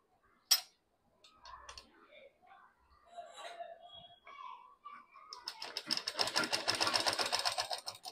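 Sewing machine stitching a folded skirt waistband: after a voice speaks and a few faint handling sounds, a dense rapid mechanical whirr of stitching builds and runs steadily to the end.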